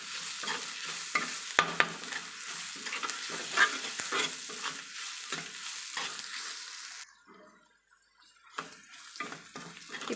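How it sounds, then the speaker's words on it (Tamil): Ginger and garlic sautéing in a pan for a coconut milk fish curry, a steady close sizzle with stirring scrapes, briefly fading near the end before the frying picks up again. "இஞ்சி பூண்டு சேர்த்து அதனுடைய பச்சை வாசனை போக நல்லா வதக்கிக்கலாம்."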